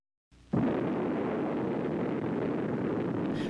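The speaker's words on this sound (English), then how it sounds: "The first atomic explosion lights up the New Mexico desert." The first atomic bomb detonates in the New Mexico desert in July 1945, a sudden loud blast that swells into a sustained, roaring rumble lasting several seconds.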